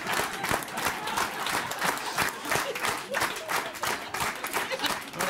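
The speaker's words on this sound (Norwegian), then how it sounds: "En kraftig applaus." Hearty audience applause at a Norwegian stage show, dense continuous clapping filling the whole stretch at steady loudness, no voices standing out.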